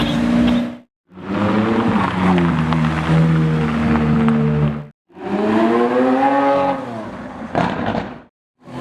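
A 570 sports car passes close by in two loud bursts of engine roar, each swelling and cutting off, with a brief high note near the end.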